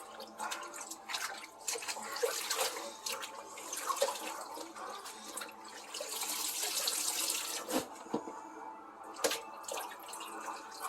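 Water splashes and trickles continuously as wild grape leaves are swished and rinsed in a cold water bath, with occasional louder sloshes and drips, close by.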